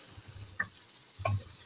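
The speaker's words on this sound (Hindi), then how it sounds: "इन सब को डाल के अच्छे तरीके से इनकी भुनाई करती।" Masala paste fries in oil in a pot for a potato and egg curry, with a quiet background sizzle broken by two short stirring scrapes.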